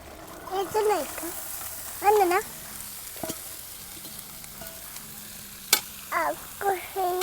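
Tempering spices for a pigeon pea dish hiss softly in a hot pan, a low sizzle running beneath a woman's frequent speech and a couple of sharp utensil taps.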